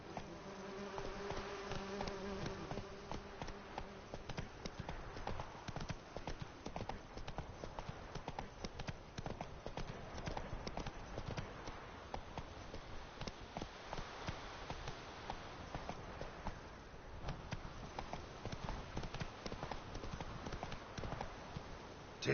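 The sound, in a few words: Roach the horse galloping, hooves clip-clopping, from video game The Witcher 3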